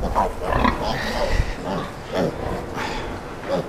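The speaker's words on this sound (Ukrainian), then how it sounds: "свинка." A pig grunts repeatedly and close by in a barn, with rough, snorting sounds under steady background noise.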